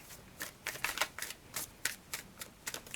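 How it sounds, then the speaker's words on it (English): Quick crisp riffling and slapping of tarot cards being shuffled, a dozen or so short bursts in an uneven rhythm, close by with no talking. "So I'm just going to have a quick shuffle."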